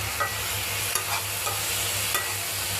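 Vegetable bhaji stir-fried in a pan, giving a steady low sizzle with a few soft scraping stirs of a spatula at irregular intervals, close and moderately quiet, with no talking.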